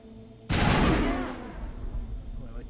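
A single loud shotgun blast in a video game, a sharp close crack that decays over about a second into a lingering tail above a low steady background hum.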